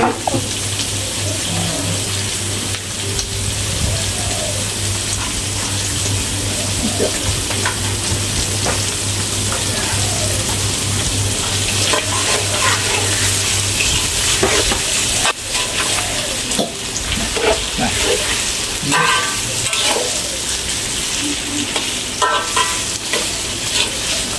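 Beef stir-fried in a pan with chili sauce and soy sauce sizzles and crackles steadily throughout, with stirring and scraping close by and a low hum running under the first part.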